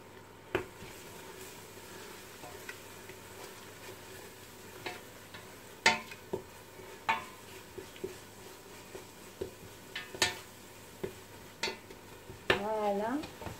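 A saffron mixture for a quail tagine with almonds is stirred in a pot, making a series of scattered scraping and tapping spoon sounds over a faint sizzle.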